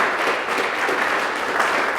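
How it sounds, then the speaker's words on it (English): Continuous audience applause at a mayoral campaign website launch event, a steady wash of many hands clapping, fairly loud and sustained with no break. "Give him one more round of applause."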